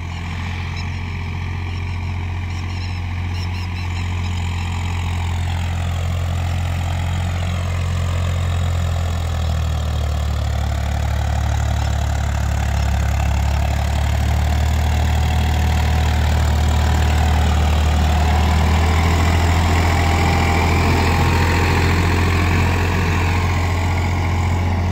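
A Swaraj 855 FE tractor engine, 2024 model, idles steadily and loudly close by, a continuous low diesel rumble with a slight rise in intensity midway and no talking.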